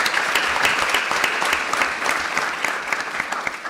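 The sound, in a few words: audience applause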